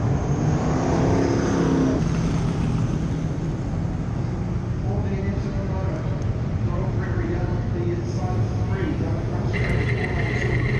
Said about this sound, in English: That is Dan Corrin's car in front.